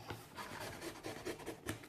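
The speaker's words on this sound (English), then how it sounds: "Take my scissors, create a nice fold." The flat edge of scissors is dragged along a paper fold to crease it for a traveler's notebook folder, making a faint, close rubbing scrape with a few soft strokes.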